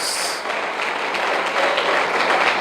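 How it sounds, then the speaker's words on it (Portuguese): Congregation in a church applauding the Lord during a Portuguese-language sermon, a steady wash of clapping filling the room without a break, fairly loud and close. "aplauda o Senhor mais uma vez"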